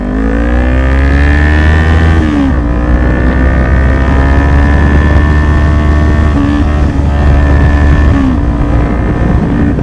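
A Kawasaki Ninja 400 motorcycle engine drones loud and close while riding, with the pitch dropping briefly at a gear shift and then climbing again, under steady wind noise.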